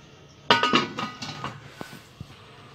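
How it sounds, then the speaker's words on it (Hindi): A lid goes onto a steamer pot of dhokla batter with a loud metallic clatter and a few rattling knocks, then two light, isolated clinks as it settles. "अब इसे ढक के रख देंगे और पकने देंगे।"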